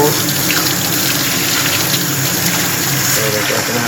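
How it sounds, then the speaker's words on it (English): Water gushes from a newly installed laundry sink faucet, a loud, steady, close rushing hiss filling the whole stretch without pause. "Turn on the water."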